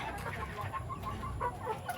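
Black gamefowl chickens, bred from Dante Hinlo and Milsims Black lines, cluck steadily in a pen, with several overlapping calls over a constant low background rumble.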